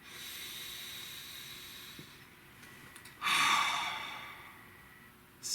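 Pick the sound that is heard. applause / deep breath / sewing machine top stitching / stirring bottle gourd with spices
deep breath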